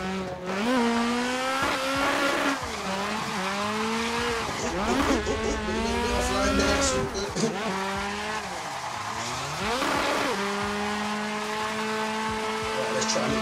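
A tuned Nissan S14 street-spec drift car in a racing sim, engine revving hard through rising and falling gear pulls with intermittent tyre squeal, loud and continuous, with someone talking over parts of it.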